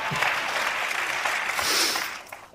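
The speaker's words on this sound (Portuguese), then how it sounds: "Aplausos." An audience claps at a talk in a short, dense burst of applause at moderate volume, fading out after a couple of seconds.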